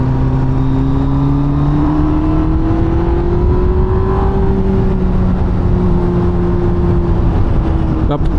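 A 2007 Honda Hornet 600 motorcycle engine drones loudly and steadily while being ridden, its pitch climbing gradually toward the middle and then easing slightly, with a continuous roar throughout.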